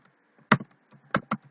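Code is typed on a computer keyboard in a few quick, sparse keystrokes, crisp close clicks in two short bursts with quiet gaps and no talking.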